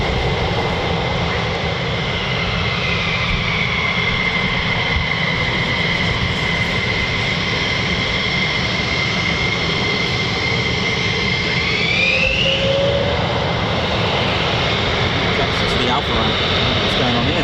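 F-15 and F-35 fighter jets take off at RAF Lakenheath. Their engines make a loud, sustained roar with a steady whining tone that bends upward near the end, filling the whole stretch without a break.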